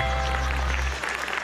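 Audience applause in a television studio, a loud dense burst of clapping that fades after about a second.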